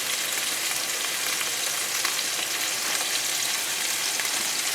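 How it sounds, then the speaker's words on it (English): Salmon frying in a pan gives off a constant, even sizzle and crackle, close and steady throughout with no talking over it. "That's the sound of the salmon that you hear in the background"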